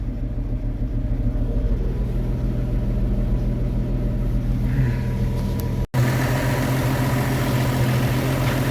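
A car engine idles steadily while warming up to operating temperature, a continuous low rumble with a brief dropout near the end before it resumes.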